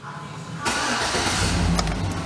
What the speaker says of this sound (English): But it starts.